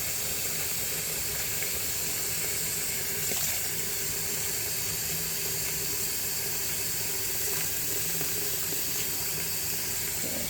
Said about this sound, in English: I'm going to run the water for a minute, see if it heats up, and see if it drains.